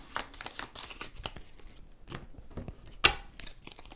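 Decks of cards for a solo tabletop card game being shuffled by hand, a run of quick papery riffles and flicks with one sharper snap near the end, close and moderately quiet with no talking.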